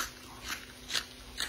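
Crunchy homemade small fish popcorn being bitten and chewed, with three sharp crunch bursts spaced about half a second apart, close and fairly quiet with no talking.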